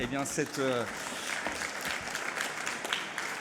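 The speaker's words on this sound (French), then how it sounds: "Je vous demande d'applaudir Frédéric Collet" Conference audience applauding Frédéric Collet at an inaugural health-tech event, a steady spread of clapping with a speaking voice over it at the start.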